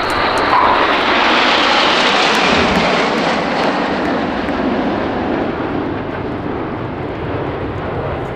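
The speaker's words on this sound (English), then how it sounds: "that climbing turn from takeoff by Captain Ivo Kardosh from the 211th Tactical Squadron of the Czech Air Force at Čáslav" A military jet from the Czech Air Force's 211th Tactical Squadron roars loudly through a takeoff and climbing turn at the 2018 Yeovilton Air Day display, a broad, sustained engine rumble that fades slightly as it climbs away.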